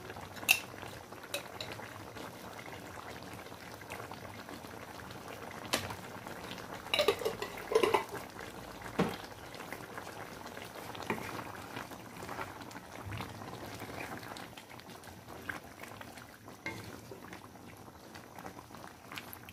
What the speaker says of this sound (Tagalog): Haluin lang natin para maghalo na yung bagoong.